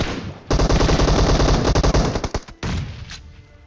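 Rapid automatic gunfire from a PUBG fight on Erangel rattles loudly and close in a dense burst for about two seconds, followed by a few separate shots and a fading echo.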